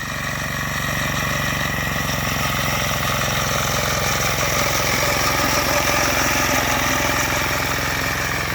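A walk-behind tractor's diesel engine runs steadily while mowing hay, a continuous mid-pitched drone with vibration, loud and close, with no break or voices throughout.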